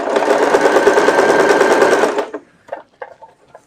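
Sewing machine stitching strips of fabric together, a close, fast and even whirring run of stitches for about two seconds that stops abruptly, followed by a few soft taps and fabric handling sounds.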